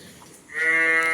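A cow at a farm where cows are offered for sale gives a single drawn-out, nasal call that rises after a quiet start and holds steady until the end.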